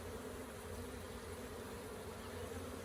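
Honey bees buzz over a beehive frame in a dense, continuous hum, steady and fairly faint, with no voices.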